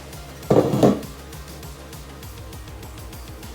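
A pan is set on a kitchen stove before oil goes in. A short metallic clatter sounds near the start, then a quiet background hum continues, with no talking.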